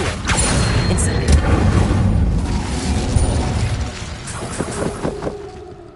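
A fire spell cast in Hogwarts Legacy, heard as a loud sustained whooshing, roaring burst that carries on for several seconds, with softer crackling pops near the end.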